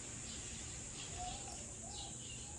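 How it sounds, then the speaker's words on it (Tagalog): Small birds call faintly near their nests, a few soft chirps over a steady hiss and insect-like drone, heard from a distance with no talking. "Ito yung mga ibon na nakatira dito sa mga pugad guys."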